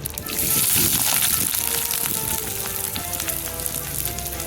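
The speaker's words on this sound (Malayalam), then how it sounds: "നമുക്ക് എണ്ണ നന്നായി ചൂടായിട്ടുണ്ട്, അതിലോട്ട് ചെറുള്ളി വെക്കാം." Shallots dropped into hot oil for a drumstick-flower dish burst into a loud, bright sizzle that peaks early, then settles into a steady, slightly quieter frying hiss, close and without talk.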